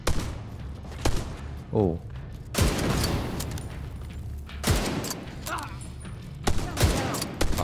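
A grenade blast and bursts of gunfire in the video game Tom Clancy's The Division, loud booming hits and rattling shots, with a player's brief exclamation over the combat.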